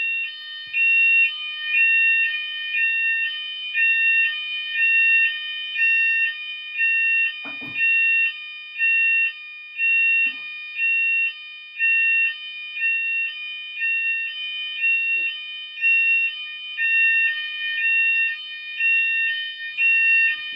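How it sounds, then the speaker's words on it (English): A hotel fire alarm sounds in a steady, repeating electronic pattern of shrill pulses, loud and continuous throughout with brief gaps between bursts. "It's a hotel alarm."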